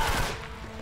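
A brief burst of video game gunfire, a rapid crackling volley that fades quickly.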